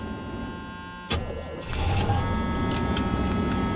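An old car's engine, cold after a winter freeze, cranks once with a short mechanical whir and catches, then settles into a steady, close rumbling idle.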